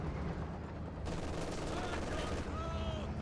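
Violent exchange of gunfire and an artillery barrage in the real-time strategy game Company of Heroes 2, a dense, continuous rumble of shots and blasts with some faint talk underneath.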